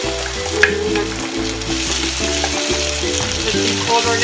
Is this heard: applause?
no